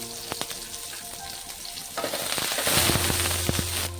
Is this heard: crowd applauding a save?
no